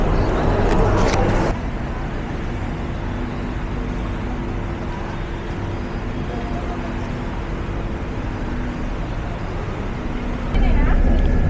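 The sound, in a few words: inside a moving bus, traffic noise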